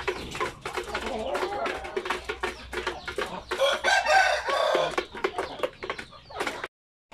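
Purebred Basilan chickens and roosters on a backyard poultry farm, with steady close clucking and cackling and a loud rooster crow rising midway, the birds alone before a sudden cutoff near the end.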